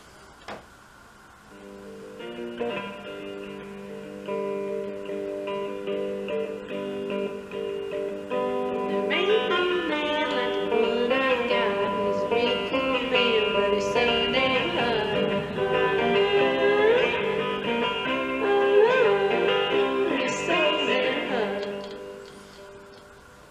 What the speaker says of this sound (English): You hear the guitar and the voice kind of bouncing off of each other.